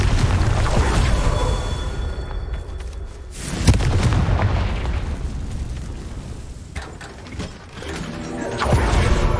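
Confringo fire spells blasting in the Hogwarts Legacy video game, with loud booming explosions and rumbling, mechanical clatter over a dense game soundtrack, bursts recurring across the stretch.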